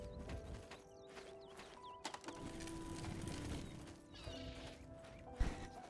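A horse in the video game Oblivion clops and snorts faintly beneath ambient game music, with occasional bird chirps and a brief mechanical click.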